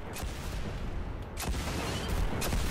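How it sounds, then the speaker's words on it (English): Scorch Cannon heavy weapon firing in the video game Destiny during a Nightfall mission, with sharp booming blasts near 0.2, 1.4 and 2.4 seconds over a constant loud battle rumble. "Just have some fun with the Scorch Cannon."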